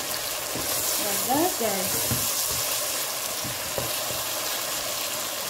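Marinade poured into a hot pan of frying chicken for poulet DG and stirred, a steady close sizzle with brief scraping and liquid sounds, a voice speaking briefly over it.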